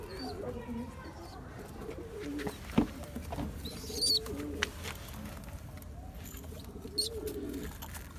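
Adult pigeons kept with their chick give soft, low cooing calls close by, mixed with faint rustling, a few brief chirps and light background noise.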